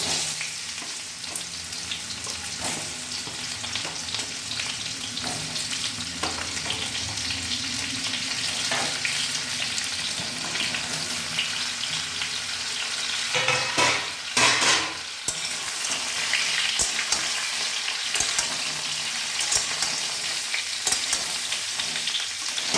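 Cut mango pieces frying in hot oil with panch phoron and bay leaf as a spatula stirs them, a steady loud sizzle with scraping strokes and a brief louder burst midway.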